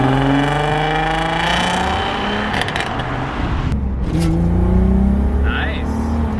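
A VW Scirocco with a swapped-in VR6 engine drives off, its engine note rising and shifting steadily as it revs up, loud and close throughout.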